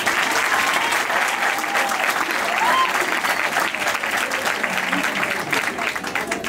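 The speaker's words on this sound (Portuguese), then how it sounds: "todos vocês que se inscreveram merecem uma grande salva de palmas" A crowd applauds school singing contestants at an outdoor school event, with thick continuous clapping throughout and faint voices mixed in underneath.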